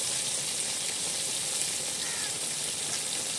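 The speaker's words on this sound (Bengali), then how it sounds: "দিয়ে দিচ্ছি কাঁঠালের দানা, একটু নেড়ে চেড়ে নিলাম" Jackfruit seeds fry in a pan of spiced oil, giving a steady, close, even sizzle with faint scraping of stirring throughout and no talk.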